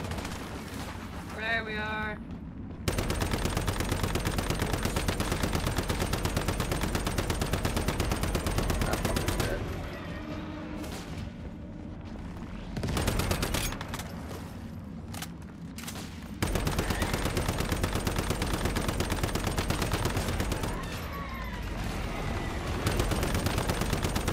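Sustained bursts of turret gunfire in a multiplayer shooter, dense and loud, broken by brief gaps before the rattling fire resumes.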